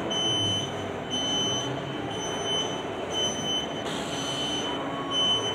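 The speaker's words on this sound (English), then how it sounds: "There's an alarm system going off." An alarm system rings steadily with a high electronic tone over a rumbling background in a mall parking garage elevator area, continuous throughout with no voices.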